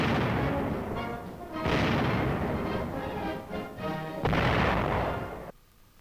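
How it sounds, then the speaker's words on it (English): Bursts of sustained gunfire from a .50 caliber aircraft machine gun fired in a demonstration, several long loud rattling volleys separated by brief pauses, ending in quiet. "Comparison firing, 50 caliber machine gun. An aircraft machine gun."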